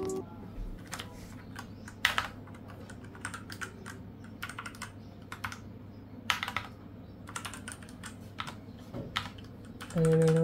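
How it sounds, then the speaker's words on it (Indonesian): Typing on a Fantech MAXFIT61 Frost wireless keyboard: close, crisp key clicks in irregular clusters over a faint steady hum, with a louder tone at the end. "Udah nyala Max Fit-nya. Coba ketik dulu."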